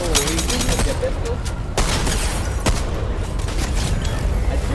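Pistol gunfire in Fortnite during a duel with an NPC, heard as several sharp shots spread across a steady, loud game soundscape, with a few distinct cracks standing out.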